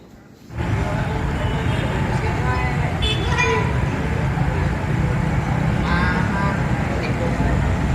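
Traffic rumbles steadily at a bus terminal, with a few short horn toots standing out over the continuous road noise after a quiet opening moment.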